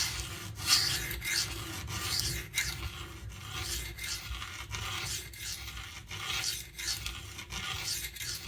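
A Spyderco Para 3 knife blade is drawn across a sharpening stone in steady, repeated rasping strokes, close and fairly quiet, with no talking.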